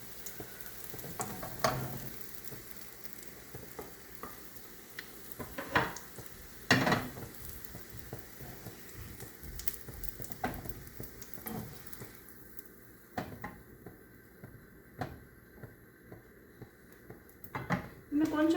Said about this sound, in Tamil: அந்த போட்ட உடனே ஒரு மாதிரி பொறுபொருன்னு சவுண்டு வரும் இல்லையா